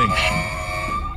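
A siren blaring in a film, a loud steady wailing tone over a low rumble for the whole short stretch, cutting off abruptly at the end.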